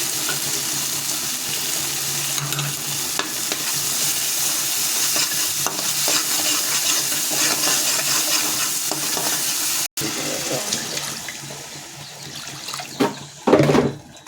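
Water goes into a hot pan of eggplant with salt, giving a steady, loud sizzle and bubbling rush that holds for most of the stretch, then drops and breaks into a few sharper splashes and clinks near the end.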